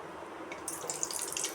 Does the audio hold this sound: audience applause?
no